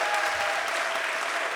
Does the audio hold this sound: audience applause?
yes